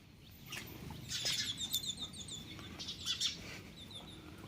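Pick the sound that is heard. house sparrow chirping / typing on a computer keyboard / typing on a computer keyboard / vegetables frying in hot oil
house sparrow chirping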